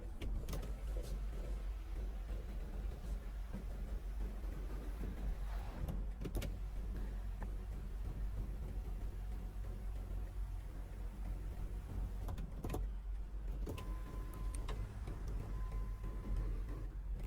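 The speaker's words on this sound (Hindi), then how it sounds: "और ये है पैनोरामा ग्लास सनरूफ" The panoramic glass sunroof of a 2023 BMW X5 xDrive40i M Sport slides open inside the quiet cabin, a faint, low motor hum running on with a few soft clicks and a thin whine near the end.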